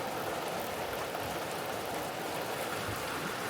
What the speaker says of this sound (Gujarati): હા વરસાદ બહુ આવી ગયો